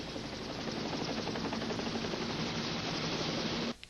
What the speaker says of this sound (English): now I can hear the helicopter coming